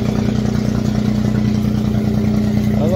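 A boat engine drones loudly and steadily with a deep, constant low hum and no breaks, close by.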